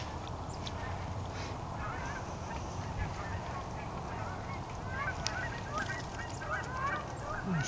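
A good-sized flock of Canada geese flies over in Lethbridge, their honking calls scattered and repeated at middling distance above a steady outdoor rumble of wind or traffic.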